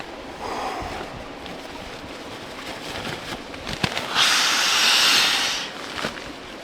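Water flows loudly near a forest campsite, a constant broadband rush heard from up close, with a few rustling handling noises and a brighter hissing swell toward the end.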